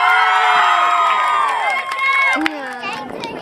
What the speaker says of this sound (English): big cheer for that